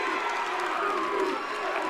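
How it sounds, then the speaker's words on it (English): A crowd at a high school hockey game between Watertown and Norwell cheers loudly after a goalie's glove save, a dense continuous roar with raised voices throughout the brief moment. "The chant comes up from the crowd, MVP, MVP"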